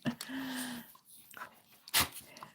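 A pet dog whimpers and yips in short bursts while being played with indoors, close by, with a person talking over part of it and a sharp bump near the end.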